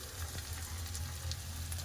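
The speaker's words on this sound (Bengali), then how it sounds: "কাঁঠালের বিচাগুলো একটু পেঁয়াজের সাথে খুব ভালো করে আগে ভেজে নেবো" Soft, steady sizzling of onions and jackfruit seeds frying in a pan, quiet and continuous with a low hum underneath.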